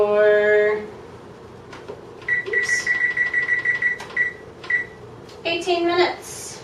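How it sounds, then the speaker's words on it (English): A kitchen timer is set for baking peanut butter brownies, giving a series of short electronic beeps in rhythmic bursts between spoken words. "And then I'm going to turn my timer on for"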